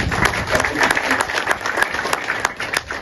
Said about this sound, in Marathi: एकदा त्यांच्याकरता जोरदार टाळ्या होऊ द्या।